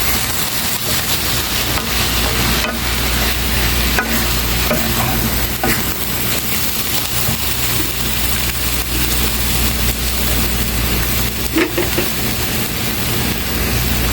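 Sweet carrot mixture being stirred as it cooks in a pan, a continuous close scraping and sizzling texture with a steady low hum underneath, no voices.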